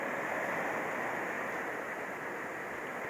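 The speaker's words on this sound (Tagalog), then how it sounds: "May malaking alon." Big ocean waves on the Bariis coast at Caibiran during Typhoon Opong make a steady, moderately faint roaring wash, with no voices.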